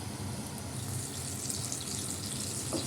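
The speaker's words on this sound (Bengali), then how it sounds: "এই আলুটা একটু ভাজা হোক, একটু ঢাকা দিয়ে রাখলাম, আলুটা একটু ভাজা ভাজা হোক" Potatoes fry in a covered pan, giving a soft, steady sizzle and hiss that stays even throughout, with no talking.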